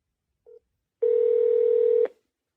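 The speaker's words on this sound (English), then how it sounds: "let me try this other number" Telephone tones while calling a number: a short beep, a pause, then a long steady tone lasting about a second before cutting off, clear and isolated with no talking.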